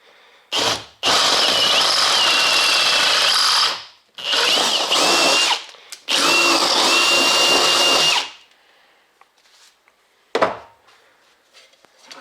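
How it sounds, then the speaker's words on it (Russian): Power drill boring 10 mm holes for Chinese-made motorcycle turn signals, three loud sustained whirring bursts of a few seconds each with short pauses, then a faint clunk near the end. "Ну и теперь сделаем отверстия, подходящими для установки наших китайских поворотников."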